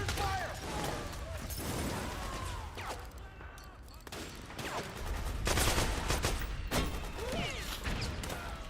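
Sustained gunfire in a Metal Gear Solid battle, a near-continuous roar of automatic bursts and crashing impacts, loud and dense throughout with a brief dip near the middle.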